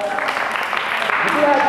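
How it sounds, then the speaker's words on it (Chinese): An audience applauds after a woman shares at a church gospel gathering, a steady wash of many hands clapping throughout, with voices mixed in. "来给她掌声"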